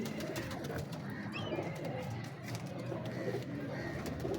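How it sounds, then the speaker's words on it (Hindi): Pigeons cooing softly in a pigeon loft, with low, continuous cooing carrying faintly and steadily throughout over a background hum. "बड़ी यकीन मानो पावरफुल कबूतरी है"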